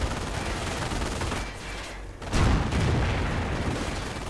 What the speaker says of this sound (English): 50 caliber doing what it can to protect the infantry